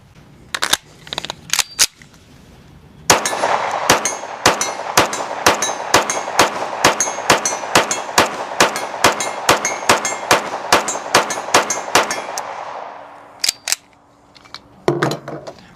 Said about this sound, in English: We're gonna let Dave shoot it.